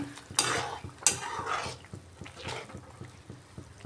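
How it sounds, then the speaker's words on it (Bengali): Fish curry broth simmers and bubbles in a pan, a soft, quiet bubbling with a few louder stirring scrapes near the start. "ঝোলটা খুব ভালোভাবে ফুটে উঠছে।"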